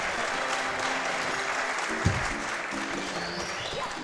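A crowd at the SGDQ 2018 speedrun charity event claps continuously, a dense, even wash of applause with some spaced-out individual claps and faint background murmur.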